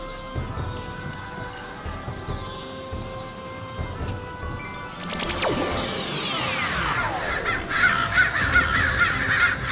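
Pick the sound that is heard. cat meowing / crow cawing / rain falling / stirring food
crow cawing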